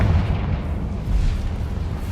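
A Confringo spell blast in Hogwarts Legacy, a dense low rumbling boom that rolls on steadily for about two seconds at fairly loud level, with no speech.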